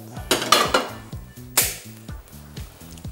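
A cooking pan clanks several times as it is set on a stove, ready for frying liver: loud, close metallic knocks and scrapes at irregular moments, with a faint hiss between them.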